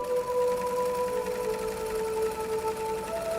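A sewing machine runs steadily for a few seconds, a continuous even mechanical hum with a fine rapid needle rhythm, close and moderately loud with no talking.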